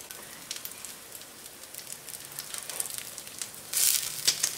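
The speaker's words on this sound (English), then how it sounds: "Let's put the crab cakes in here and we'll saute them per side approximately" Crab cakes sauté in olive oil in a pan, giving a steady soft sizzle and crackle throughout, with a louder burst of frying near the end.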